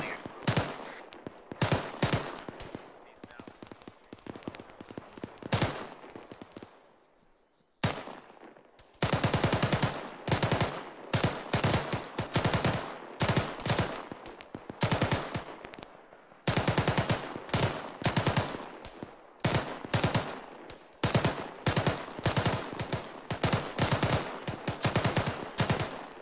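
Bursts of automatic rifle fire during squad training, loud rapid strings of shots in long sustained volleys separated by short pauses, with sharp echoing reports.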